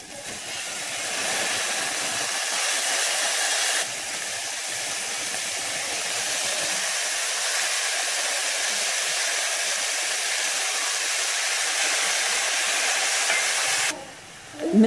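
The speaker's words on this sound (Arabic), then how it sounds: "غادي نشحرو هاد البصله في واحد المقله اللي كنديرو فيها واحد جوج المعالق كبار ديال الزيت الزيتون" Onion sautéing in a pan in two big spoonfuls of olive oil, a steady close hiss and sizzle that runs on evenly and cuts off at the end.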